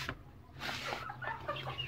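A hen clucking close by, a few short throaty clucks over faint background noise, with no talk.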